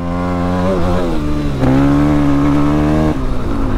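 A 2004 Yamaha WR-F 250 dirt bike engine revs hard and steadily, its pitch rising and falling with throttle blips, loud and close throughout.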